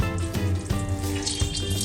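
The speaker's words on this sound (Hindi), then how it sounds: "इसको ऐसे निचोड़ के निकालना है पूरा पानी।" Minced meat for Lucknow galawati kebabs squeezed by hand to press out its water, giving close wet squelching and dripping sounds over a constant watery background.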